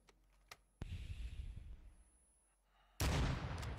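A grenade blast in the Apex Legends video game: one sharp burst whose rumble fades out, then a second, much louder explosion that roars on to the end.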